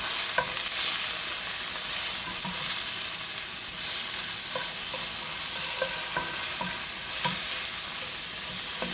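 Chicken with plain paprika is stirred in a frying pan, a steady broadband sizzle running throughout with soft scrapes and taps of the utensil spaced irregularly across the mix.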